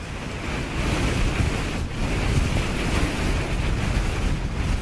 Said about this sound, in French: En milieu d'après-midi, le vent se lève brusquement.